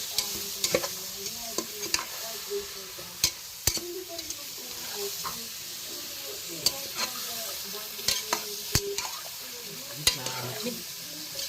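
Steady sizzling of chicken frying in a hot pan, with occasional clicks and scraping of stirring throughout; no voices.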